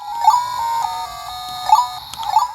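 A tiny handheld Frogger arcade game plays tinny electronic tones: a sustained thin beeping tune with bright blips, close and clear, with no talking.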